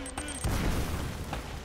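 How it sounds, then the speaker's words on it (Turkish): A bomb explodes in the video game Uncharted: Drake's Fortune, a sudden loud boom that bursts in about halfway through and rolls on as a dense, rumbling blast, with a voice faintly present underneath. "bomba patladı"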